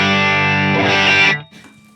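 Electric guitar through a saturated FM3 ODS-100 amp model, a single loud sustained distorted chord ringing for over a second before cutting off abruptly into a brief faint tail.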